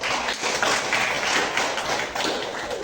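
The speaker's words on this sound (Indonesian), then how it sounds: "beri tepuk tangan untuk" An audience claps together in a fairly quiet, even burst of hand clapping that carries on without a break for nearly three seconds.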